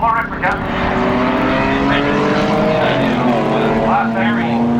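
A small Toyota race car at a classic motor race on a circuit, its engine droning steadily with a rising and falling pitch as it passes, under continuous commentary.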